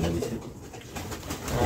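A prize-winning racing pigeon held in its keeper's hands gives a low, soft cooing, close and steady, with no talk over it.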